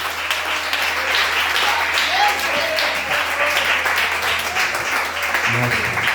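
A church congregation claps and applauds together in sustained, lively applause that fills the room at close range, with voices faintly mixed in beneath the clapping.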